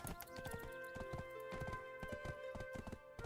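Horse hooves clip-clop in steady repeated beats while riding in the online video game Black Desert Online, close and prominent throughout with faint tonal game music underneath.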